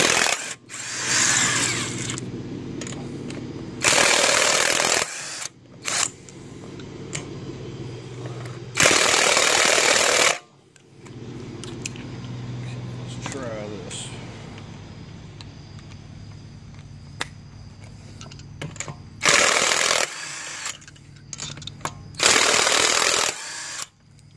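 A battery impact wrench with a 19mm socket hammers at wheel lug nuts on a 2013-2015 Chevrolet Malibu LT 2.5L, loud rattling bursts of several seconds each separated by quieter pauses, up close in a garage.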